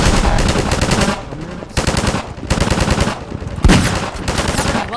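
Rapid automatic gunfire from the video game Half-Life 2 rattles in loud, sustained bursts separated by brief pauses, with a sharper blast near the end.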